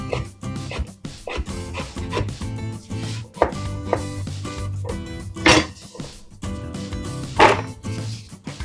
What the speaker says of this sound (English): We're just gonna cut it into shapes like this.